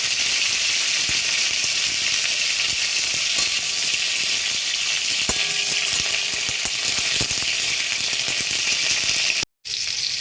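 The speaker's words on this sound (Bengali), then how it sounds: "তেল গরম হয়ে গেছে আমি এবার ফুলকপিগুলো হালকা আঁচে ভেজে নেব" Cauliflower florets shallow-frying over low heat in hot white oil, a steady bright crackling sizzle close to the pan with a few faint pops and a brief cut near the end.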